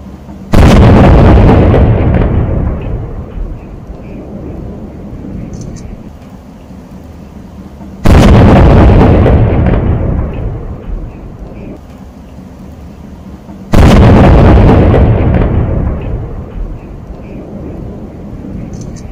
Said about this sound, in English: it all started with a cannon salute